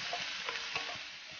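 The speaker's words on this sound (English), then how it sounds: "You can hear it sizzling away." Carrots fry in a pan with gluten-free soy sauce, giving a brief, faint, steady sizzle with a few soft crackles and stirring sounds.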